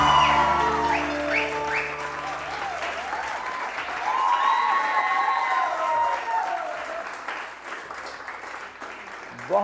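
Sustained studio audience applause fills a TV morning show set, steady and dense throughout, with a host's voice briefly over it before the clapping swells again.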